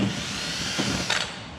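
Power drill boring through a painted steel fender on an old Pontiac GTO, a continuous whirring drone close by, with brief bumps in pitch as the bit bites.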